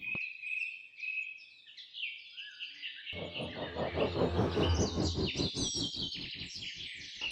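A mimicking bird sings a varied run of high chirps and whistles, then a dense, buzzy burst of rapid calls joins in, loud and close.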